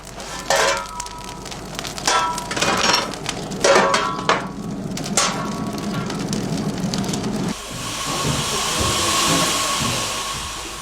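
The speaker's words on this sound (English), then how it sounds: "The steam needed for the entire resin distillation process is generated in the boiler room." A steam boiler in a boiler room fired with pine branches and forest debris, supplying a pine resin distillation works. Loud, steady hissing steam runs throughout, mixed with clanks and rattles in the first part.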